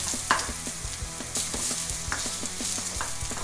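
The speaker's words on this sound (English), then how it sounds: "I'm just going to brown these onions off a little bit before I put anything else in." Onions sizzle steadily in a hot pan while a utensil scrapes and taps in a quick, regular rhythm.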